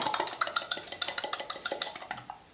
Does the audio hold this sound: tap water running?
no